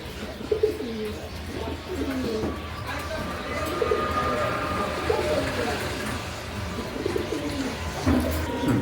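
Modena pigeons coo in repeated soft, throaty phrases close by, over a low background hum.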